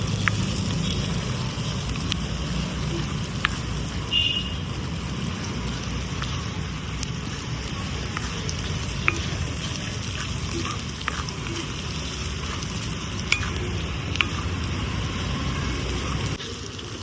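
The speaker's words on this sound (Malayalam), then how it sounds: "ഇനി ഇത് നല്ലോണം വറുക്കാം." Ginger and garlic fry in a pan on a balcony for a chicken pickle. A steady, even sizzle hisses throughout, with a few faint clinks over it.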